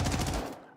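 A short, loud burst of rapid automatic gunfire from hip-firing a gun in a video game, several quick shots ringing close and then cutting off into a fading tail.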